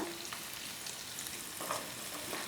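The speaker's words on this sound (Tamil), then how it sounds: "குடமிளகாய் வந்து லாஸ்ட்டாக சேர்த்துங்கம்மா. கொஞ்ச நேரம் வதங்கட்டும்" Capsicum sautés with tomato in a pan for chicken fry, giving a steady, soft sizzle with occasional scrapes and stirs. The sound is fairly faint and carries on without talk.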